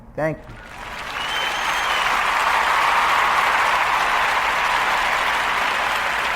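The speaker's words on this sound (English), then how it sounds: "Round of applause for yourself for listening." Sustained applause from a crowd, rising quickly after a brief voice at the start and holding steady and loud throughout.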